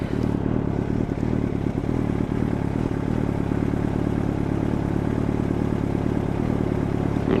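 A nearby motorcycle ridden by a beginner on a first practice ride runs with a steady, loud engine drone and mechanical clatter, holding an even rumble throughout with no talk.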